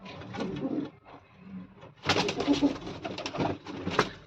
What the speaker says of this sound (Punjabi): ਆ ਲਾਲ ਚੀਨੀ ਕਬੂਤਰੀ